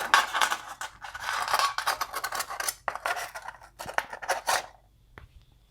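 A Foster's beer can is cut into a wind screen: crisp, irregular bursts of snipping and scraping thin aluminium, loud and close, with short pauses before trailing off at the end.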